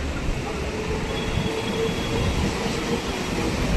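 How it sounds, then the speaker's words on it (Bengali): A Sealdah–Kalyani Simanta local train pulls out from a station platform with a steady, loud rumble of wheels and carriages and faint rail squeal, continuous throughout with no talk. "আর সেই সাথে 1 নম্বর প্ল্যাটফর্ম থেকে বেরিয়ে যাচ্ছে শিয়ালদা কল্যাণী সীমান্ত লোকাল।"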